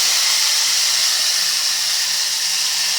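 Finely chopped tomato hitting hot tempering oil with fenugreek seeds for a spinach-tomato dal, a loud, even hiss of steam and spitting that holds steady without pause.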